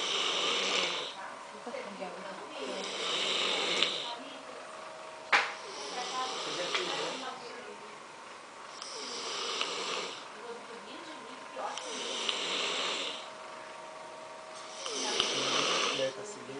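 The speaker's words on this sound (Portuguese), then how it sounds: "Eu vou filmar ela roncando." A woman snores in bed at night, with slow, regular rasping breaths repeating roughly every three seconds, close and moderately loud in a quiet room, while a man whispers between the snores.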